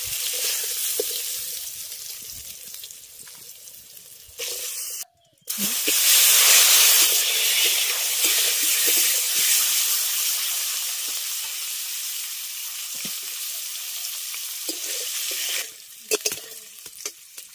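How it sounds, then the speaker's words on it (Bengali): Potatoes fry in hot oil, a loud continuous hissing sizzle that swells sharply after a brief gap, holds steady, then eases toward the end. "এবার পটলগুলো তুলে নিয়ে একইভাবে আলুগুলোকেও ভেজে নেব"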